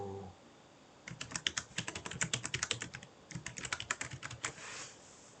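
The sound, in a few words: computer keyboard typing, Ctrl+W and Ctrl+X shortcuts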